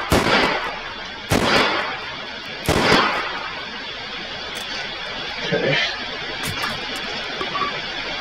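Revolver shots in the VR shooting game H3VR come as three loud, sharp bangs about 1.3 seconds apart, followed by fainter clicks and handling noises, close up.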